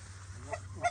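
A few Canada goose honks ring out during a goose hunt on Prince Edward Island, one near the middle and a louder one at the end, over a steady low hum outdoors.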